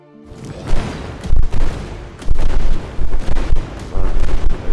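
Turrets in the tower defense game World Crafter TD fire heavy booming shots, loud and close, coming in repeated bursts over a rumbling battle background.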